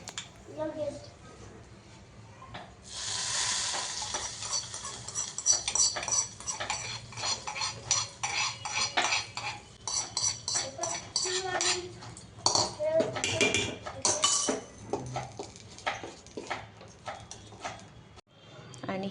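A spoon scraping and clinking in a small pan of tempering with cumin and curry leaves for coconut chutney, irregular metallic taps and stirs close by, with a voice talking over parts of it.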